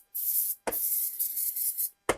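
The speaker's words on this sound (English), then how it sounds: "I'm going to give them a spray with this stuff" Aerosol can of penetrating oil sprayed onto car parts in three short hissing bursts, close and fairly loud, with brief gaps between them.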